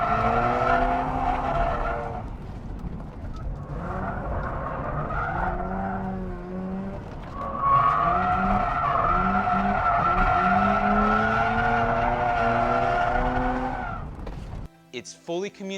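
Sports car with a long wheelbase driven at its limit of grip and sliding into oversteer, its tires squealing in long wavering tones over a steady engine drone, loud and close, with a short break partway through.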